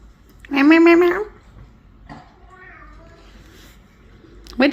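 Cat meows loudly and close by, one long clear meow followed by softer short meows, with a person's voice also heard imitating the meowing.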